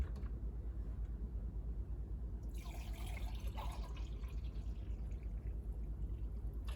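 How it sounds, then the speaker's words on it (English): Coffee poured from a brewing container into a cup, a soft, brief liquid splash and trickle lasting a couple of seconds over a steady low background hum, no talk. "why I make it in this and then pour it in here"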